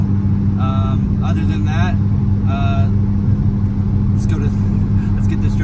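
Modified daily-driven car on a drive to a Stancewars show in Seattle, its engine a steady, loud low drone throughout, with someone talking over it.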